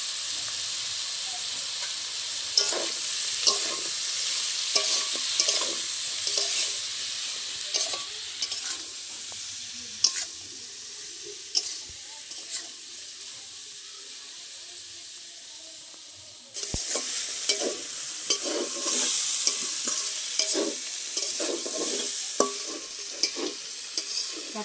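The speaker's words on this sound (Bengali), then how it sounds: "ঘাটকলটা ভাজা হয়ে গেছে" Ghetkol (taro-family greens) with salt and turmeric frying in a pan and being stirred, a soft steady sizzle broken by repeated scraping clicks of the spatula, close and fairly quiet, growing a little louder near the end.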